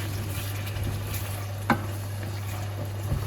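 Beef filling with a splash of water is stirred in a hot pan, a soft continuous sizzle under a low steady hum, with one sharp spoon clack midway and a lighter knock near the end.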